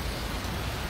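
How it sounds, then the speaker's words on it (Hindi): Heavy, stormy rain pours down outdoors, a dense, steady hiss filling the whole second at an even, loud level with no pauses. "बहुत तूफ़ानी तेज़ बारिश शुरू हो गई है।"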